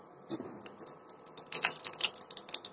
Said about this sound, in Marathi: आता बघा, ह्याच्यामध्ये मी मोहरी टाकते. तेल गरम झालं